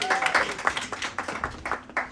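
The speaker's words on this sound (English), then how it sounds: "Show some love, y'all. Clap it up." Audience clapping at a live comedy open mic, a scattered burst of claps over 2 seconds with moderate loudness and uneven rhythm, a few voices mixed in.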